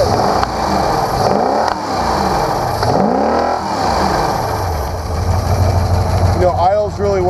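A 1997 Supra Vision ski boat engine idles with a steady, deep rumble and slight wavering swells in pitch, while someone talks over it throughout.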